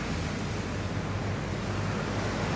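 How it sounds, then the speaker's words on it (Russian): Surf washing onto a Ligurian Sea beach in Genoa, a steady broadband wash with low rumble throughout, close and continuous with no voices. "на пляже Лигурийского моря, на этот раз в Генуе."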